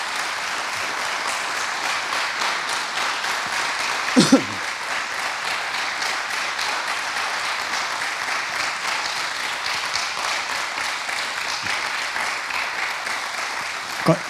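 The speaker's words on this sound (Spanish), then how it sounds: "como aplaudís, ¿eh?" Audience applauding after a talk, a dense steady clapping sustained for the whole stretch, with a couple of brief louder accents and a faint voice near the end.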